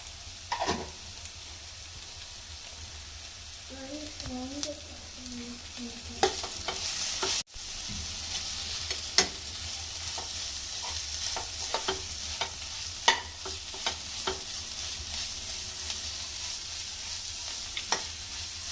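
Egg curry masala with pepper and garam masala fries and is stirred in a pan, giving a quiet, steady sizzle with scattered spoon clicks, a short tonal warble near the start and one sharp bump midway.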